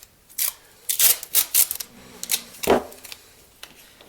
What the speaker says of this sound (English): take my masking tape